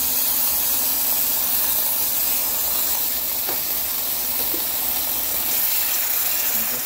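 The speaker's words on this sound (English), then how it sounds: "Saute it." Tamarind paste and sugar for a Thai fish sauce sauté in a pan, giving a soft, continuous sizzling hiss at moderate level throughout.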